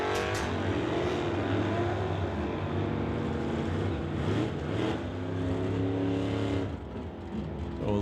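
A 1967 Plymouth and a small blue Mustang roar down a drag strip at Mission Raceway during an NHRA divisional drag race, with loud, sustained engine noise that swells and fades over several seconds.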